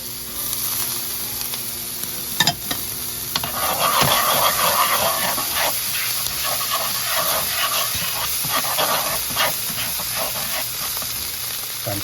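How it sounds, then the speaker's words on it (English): Chopped shallot sautéing in a hot pan gives a steady, close sizzle and hiss with light crackling and occasional stirring scrapes, running without pause. "we'll add shallot. And we'll saute it a little."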